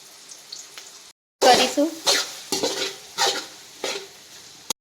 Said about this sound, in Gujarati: અને આપણે બાફેલા બટેકા એડ કરીશું